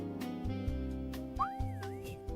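An Ultraman-style whistle sound effect, a rising and swooping tonal whistle over layered electronic tones and low pulses, short and fairly close, with no talking.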